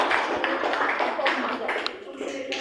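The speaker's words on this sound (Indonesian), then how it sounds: "tepuk tangan untuk pendidikan" Applause from a classroom of students for the Pendidikan group as it goes up to present in a history lesson: dense, steady clapping across the whole stretch with voices mixed in.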